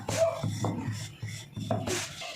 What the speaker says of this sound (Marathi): आता याला पलटून आता याला थोडंसं लाटून घ्यायचं